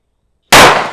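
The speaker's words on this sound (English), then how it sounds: "Now the next 3 are going to be 357 Magnum, and I mean, I'm assuming it's going to be much louder and have a much harder kick." A single very loud, close gunshot from a Smith & Wesson 686 revolver firing a .357 Magnum round, a sharp blast after a moment of silence with a short decaying ring.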